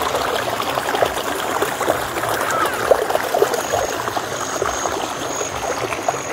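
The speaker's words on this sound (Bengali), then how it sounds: "জলটা দেখুন কলকল করে উপর থেকে কোথাও থেকে জল নেমে আসছে" Water from a stream in Kamolpur babbles and trickles down from somewhere above, a steady broadband rush with a faint hiss and small splashes, continuous and fairly close, without speech.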